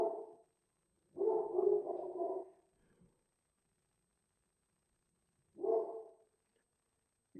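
A dog barks in a few muffled bursts at other dogs walking by: one short bark, a longer run of barking, then a pause and another bark. The sound is faint and distant, with quiet between the bursts.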